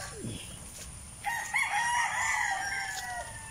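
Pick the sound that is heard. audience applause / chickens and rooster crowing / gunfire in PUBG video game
chickens and rooster crowing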